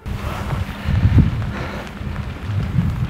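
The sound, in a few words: heavy rain falling outdoors at night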